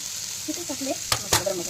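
Mung dal being mixed into masale bhat in a cooking pot, a steady frying sizzle under a few soft scraping stirs and two sharp utensil knocks near the end.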